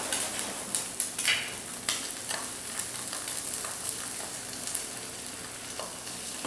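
A one-egg omelet frying in a pan, with a steady close sizzle broken by occasional sharper crackles and pops over about six seconds, and no talking.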